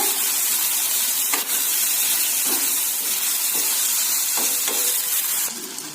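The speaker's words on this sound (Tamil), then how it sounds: "ஆட் பண்ணி நல்லா ஃப்ரை பண்ணுங்க." Washed pasta frying in a pan, a loud continuous sizzle and hiss with a few spatula scrapes, easing slightly near the end.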